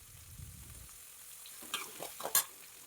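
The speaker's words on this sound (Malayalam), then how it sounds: "സവാള, പച്ചമുളക് അരിഞ്ഞതും കറിവേപ്പിലയും ചേർത്ത് കൊടുക്കുക. അത് നന്നായിട്ടൊന്ന് വഴറ്റുക." Chopped onion, green chilli and curry leaves sauté in hot oil for Kerala-style okra stir-fry, a soft sizzle with a few quick stirring scrapes and a sharp clink of the spoon against the pan near the end.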